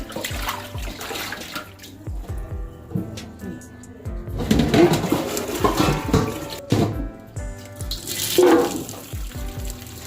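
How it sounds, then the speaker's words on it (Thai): Fingerroot being washed in a basin of water and scooped up into a basket, producing close sloshing and splashing in several bursts that rise and fall, with quieter gaps between them. "จะล้างแล้วก็โกยขึ้นมาใส่ตะกร้าแบบนี้"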